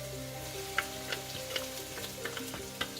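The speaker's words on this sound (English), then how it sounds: "You can hear the sizzle." Chopped onion, carrots, garlic and bell pepper sizzle steadily in a hot pan, a continuous close frying hiss with small pops and occasional stirring clicks, no voices.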